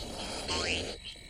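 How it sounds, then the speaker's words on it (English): Air squeezed slowly out of the stretched mouth of an inflated balloon, a close, loud squealing buzz with a rising whine in the middle, quieter toward the end. "Let air out of the balloon slowly and you'll make some noise."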